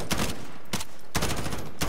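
Gunfire in the video game Warzone: four loud, fast bursts of automatic fire roughly half a second apart, each a dense crackling volley, with no speech over them.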